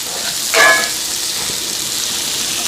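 Chopped onion and garlic sautéing in a pot, with a brief louder sizzle burst as something is stirred or dropped in, then a steady soft frying hiss.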